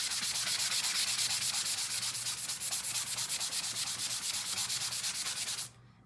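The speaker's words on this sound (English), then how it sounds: "I just like to sand it off just a little." Hand sanding of a painted wooden jar cutout, a close, steady rhythmic scratchy rubbing of quick back-and-forth strokes that stops abruptly near the end.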